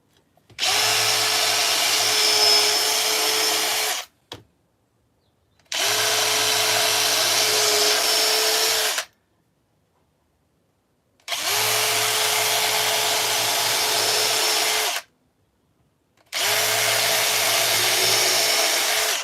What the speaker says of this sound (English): always pre-drill your wood